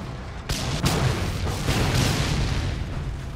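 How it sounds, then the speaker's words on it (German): An object blows up in the Mad Max video game, giving a loud, rumbling boom with a couple of sharp blasts that roll into a sustained, noisy roar with no one talking. "Das explodiert von allein, okay."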